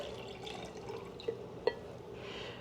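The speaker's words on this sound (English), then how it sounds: "let me pour this in" Ultra-filtered milk pours into a glass of cold brew coffee in a soft, quiet liquid trickle, broken by two small clinks partway through, with no talking.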